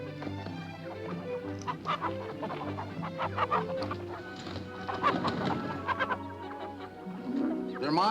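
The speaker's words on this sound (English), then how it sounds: "They're my hens." Hens cluck repeatedly at close range on a farm, giving busy, uneven bursts of clucking throughout, with people talking faintly in the background.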